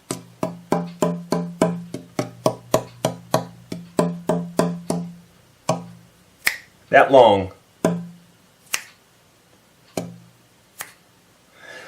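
Top of a handmade mandolin tapped repeatedly with a fingertip, a quick series of short ringing knocks that thin out into a few sparser taps, with a brief spoken phrase partway through.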